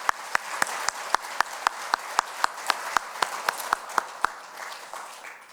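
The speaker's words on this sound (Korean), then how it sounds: "우리 힘찬 박수를 하나님께 올렸으면 좋겠습니다" Church congregation clapping together at a Christmas service, a steady rhythmic beat of sharp claps about three per second over a soft wash of scattered hand claps, moderately distant in a large room.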